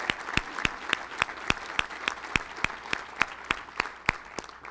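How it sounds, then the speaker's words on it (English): An audience at a speech applauds with steady, evenly spaced claps, heard clearly and fairly close with no talking. "give them a big, huge round of applause"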